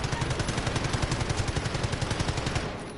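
Rapid automatic gunfire rattles continuously in a PS4 shooter game, a dense, loud, evenly spaced burst of shots that runs for about three seconds before tapering slightly at the end, with no talk over it.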